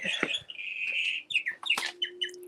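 Loud birds chirp and tweet outdoors in a garden, a busy run of bright, close calls and trills with short pauses between bursts.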